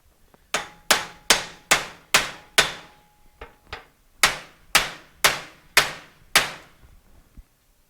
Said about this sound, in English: And you just take a hammer.